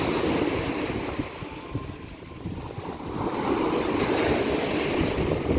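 Waves on Jomtien beach in Thailand rush and wash continuously, close and fairly loud, with steady wind noise over the microphone and no talk.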